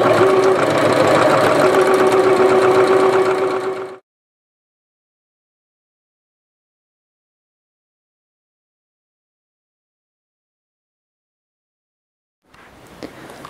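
A sewing machine stitching fabric along a 5/8 seam allowance, a steady close mechanical whir for about four seconds before stopping, followed by silence and a faint return of sound at the end.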